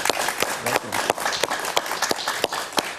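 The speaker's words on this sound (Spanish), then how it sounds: "Un aplauso para Frank Mora, por favor." A studio audience claps for a guest on a Spanish-language TV talk show, with dense, steady applause and sharp individual claps standing out, filling the space throughout.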